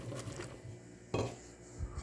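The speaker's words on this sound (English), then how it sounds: "Mix and mix and mix and mix." Bread dough, thinned out and too watery, being stirred in a bowl after extra flour is added, giving soft scraping and clinking knocks of utensil against the bowl with one louder clack midway, close and fairly quiet.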